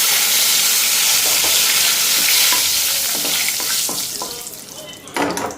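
Cumin seeds and bay leaf sizzle in hot oil, a loud steady frying hiss broken by stirring clicks and scrapes of a utensil against the pan, fading slightly before a final clatter.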